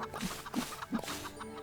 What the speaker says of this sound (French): Je commence à entendre la poule.